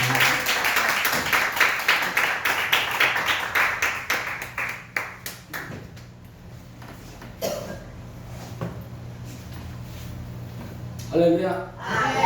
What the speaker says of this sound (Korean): 우리 박수로 한번 크게 환영합니다